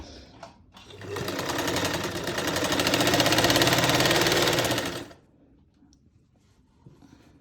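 Domestic sewing machine running a steady seam along the pleated panels of a salwar: a loud, even, fast mechanical whirr that starts after a second, holds for about four seconds, then stops.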